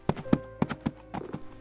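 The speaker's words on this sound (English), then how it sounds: "The horse hooves ringing clear." Several distinct hoofbeats clip-clop in an even rhythm, clear and fairly close, with no voices.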